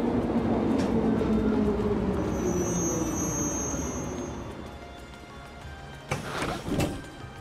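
A tram ride in the video game Trails of Cold Steel, with a steady low rumble of rolling wheels and a faint high whine, easing off before a couple of brief clanks near the end.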